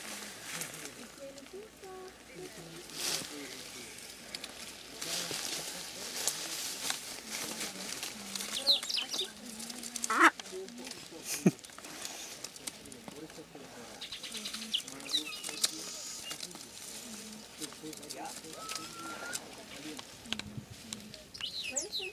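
Birds call faintly at Lake Titicaca, Peru, with scattered chirps and coos in open outdoor ambience while people talk quietly nearby.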